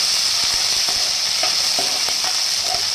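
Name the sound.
chopped onions and green chillies frying, stirred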